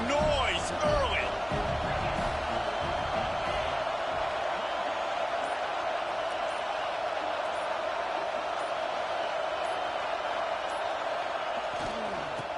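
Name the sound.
football stadium crowd noise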